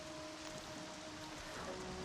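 Steady soft rainfall in the game Horizon Zero Dawn, a constant faint hiss of drops with a low, thin tonal hum underneath.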